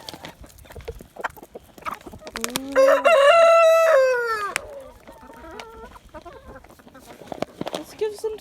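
Chickens in a winter pen cluck and squawk over black soldier fly larvae treats, with one loud, drawn-out crowing call from a rooster in the middle amid scattered clucks. A person briefly exclaims.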